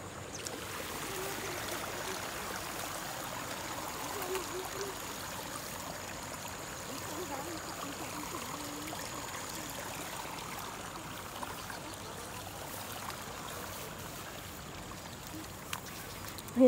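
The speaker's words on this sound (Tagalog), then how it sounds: "Ang lakas ng tubig." A strong river stream in the Philippine countryside rushes steadily along a path where people walk to wash clothes, a continuous broad watery hiss at moderate distance with no voices.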